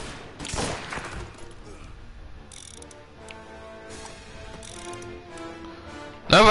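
Rifle gunfire from the video game Mafia Definitive Edition: a rapid burst of shots near the start, a quieter stretch with soft mechanical ticking and game ambience, then a sudden loud report at the end.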